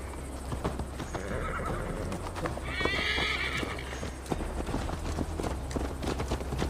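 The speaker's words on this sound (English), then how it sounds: "Mount up, Eivor. It's a long ride to Tamworth." Horses ridden in the video game Assassin's Creed Valhalla: steady clip-clop hoofbeats with a neigh partway through, heard close over a continuous outdoor game ambience.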